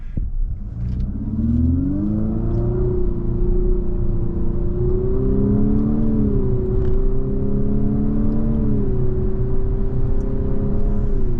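A 2023 Infiniti QX55 Luxe AWD SUV with a CVT accelerates in manual mode, its engine droning steadily and rising in pitch in smooth stepped surges, heard from inside the cabin with no talking.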